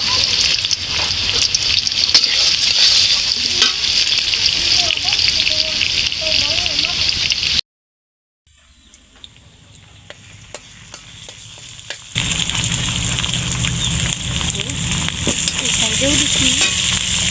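Beef sizzles loudly as it is stirred and fried in a cooking pot, a dense, continuous frying hiss that briefly cuts out midway and then returns just as strong.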